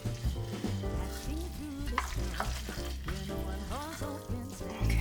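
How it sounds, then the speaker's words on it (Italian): Risotto being stirred with salt in a hot pan, a steady sizzle and scraping stir running throughout, partly masked by prominent background music. "Diamo una mischiata."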